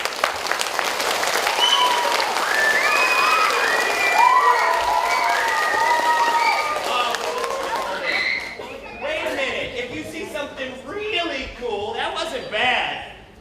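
A theater full of children applauds and cheers with bright, excited voices, a loud, dense burst of clapping and shouting that gradually breaks up into scattered claps and chatter.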